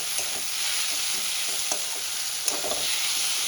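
Fish fries in a pan with coriander, cumin and chilli powder while being stirred, giving a steady close sizzle with a few soft scraping stirs and no voices.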